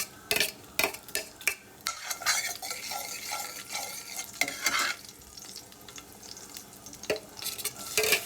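Spices and curry leaves fry in hot oil while being stirred, with a steady close sizzle broken by repeated scraping clinks of a spoon against the pan, and no voices.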